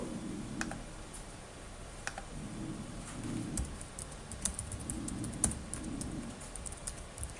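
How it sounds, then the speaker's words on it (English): Someone types on a computer keyboard in short bursts of quick, light clicks with small pauses between them, close by and fairly quiet over a low room hum. "I'll just type it out here."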